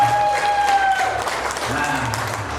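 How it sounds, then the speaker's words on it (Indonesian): An audience at a motivational seminar competition breaks into dense, steady applause that fills the whole stretch, with a faint tonal hum early on. "Tepuk tangan untuk kita semua."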